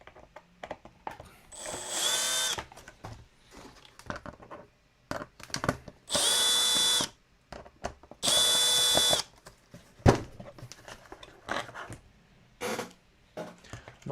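Milwaukee power drill during a model F-22 Raptor build, three separate bursts of about a second each, whirring hard between quieter clicks and handling noises at close range.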